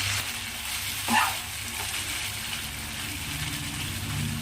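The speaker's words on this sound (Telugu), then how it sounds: "అటు ఇటు స్పూన్తో కదిలిస్తూ చక్కగా మనము సన్నటి సెగ మీద ఫ్రై అయితే చేసేసుకున్నాము" Mutton fries on a low flame with a faint, steady sizzle, and a spoon clinks and scrapes briefly once as it stirs the pieces.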